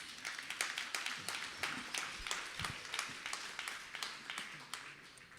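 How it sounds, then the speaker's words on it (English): A gala audience claps warmly, a dense patter of many hands at moderate distance that holds steady for several seconds without voices over it. "Let's give them a warm round of applause."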